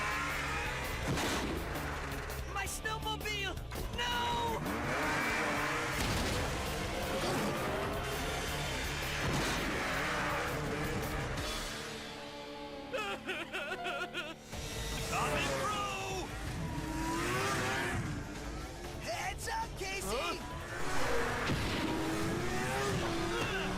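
Cartoon snowmobile engine in a Teenage Mutant Ninja Turtles 2003 scene: revving motor, crash and skid effects mixed with music and frequent shouted dialogue throughout.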